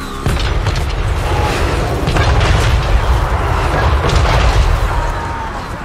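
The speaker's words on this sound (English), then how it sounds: "Now the crossbowmen should be firing." Crossbow volleys in a Warhammer battle game between Cathay and plague monk forces, a dense run of booming impacts and bursts rolling loud and continuous over several seconds.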